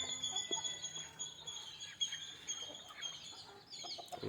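Free-range country chickens cluck softly while drinking water, with scattered short calls and faint bird chatter in the background, no one speaking.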